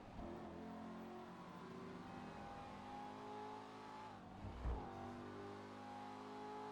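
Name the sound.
Emperor ETR1 car engine revving in GTA Online video game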